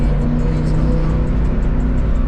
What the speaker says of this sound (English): That truck sounds so good, bro.